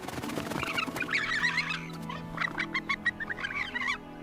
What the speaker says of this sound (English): Sharp warning calls pierce the dry air